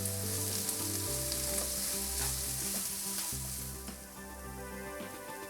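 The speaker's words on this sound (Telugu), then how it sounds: "మనం కట్ చేసి పెట్టుకున్న ఉల్లిపాయలు దానిలో వేసేస్తున్నాం. అవి కొంచెం గోల్డెన్ బ్రౌన్ అయ్యేంత వరకు వేయించుకోవాలి." Chopped onions fry in a pan, a steady close sizzle with occasional stirring clicks, heard alone under a faint tonal background hum.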